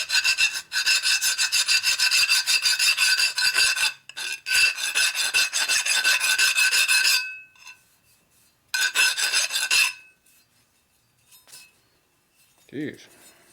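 Metal filing removes factory grinding burrs from a 1957 Harley-Davidson panhead engine part, with loud rhythmic rasping strokes in long bursts, then short pauses, another burst and a faint clink near the end.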